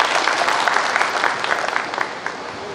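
An audience at a Defence Day ceremony in Layyah breaks into applause, a brief burst of dense, moderately loud clapping from a crowd that holds steady, then starts to thin out.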